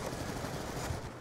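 An LMG machine gun fires in Black Ops 2, a brief, rapid burst of game gunfire, moderately loud and without talk.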